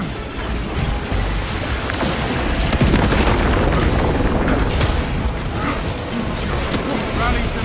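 Melter bomb blast in the video game Space Marine 2, a loud dense wall of explosive rumble and crashing debris sustained throughout, with combat noise layered in.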